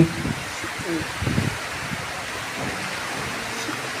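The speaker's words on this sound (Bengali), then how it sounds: "অনেক বৃষ্টি হচ্ছে।" Heavy rain pours down in a constant dense roar, with a low muffled voice briefly audible beneath it.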